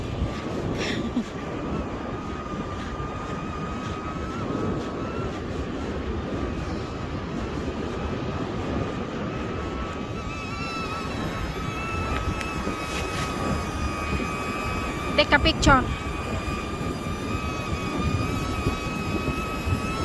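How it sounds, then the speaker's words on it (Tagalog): A DJI Neo drone flies in follow-me mode outdoors, its steady whirring hum continuous throughout at moderate level, with people talking and calling out nearby over the motor drone. "Follow me drone."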